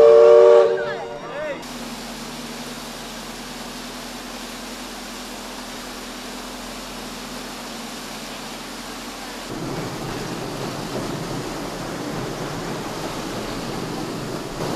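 A Disneyland Railroad steam train whistle blows for a moment, then gives way to a steady, rumbling hiss of the moving train that carries on to the end.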